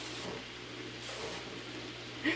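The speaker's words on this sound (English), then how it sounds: "spray a little non-stick on your gas burner" A few short bursts of non-stick cooking spray hiss, steady and close, separated by brief pauses.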